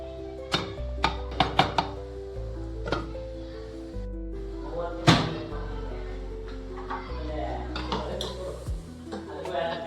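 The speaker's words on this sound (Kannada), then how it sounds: "ಈಗ ಶೆಲ್ಫ್ ಮೇಲೆಲ್ಲ ಪಿಂಗಾಣಿ ಐಟಮ್ಗಳಿದ್ವಲ್ಲ ಅವೆಲ್ಲನೂ ತೊಳ್ಕೊತಾ ಇದ್ದೀನಿ" Porcelain dishes and items from kitchen shelves being washed during festival cleaning, with scattered sharp clinks and knocks of ceramic against ceramic, close by, under background music.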